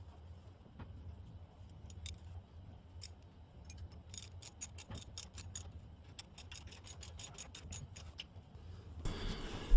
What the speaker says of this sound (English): here I am putting on the lower bracket that holds the bottom on